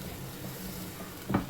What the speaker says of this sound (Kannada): ಹಾಗಾಗಿ ಈಗ ಮುಚ್ಚಳ ಮುಚ್ಚಿ ಮಸಾಲೆ ಎಲ್ಲ ಇದು ಫ್ರೈ ಆಗಬೇಕು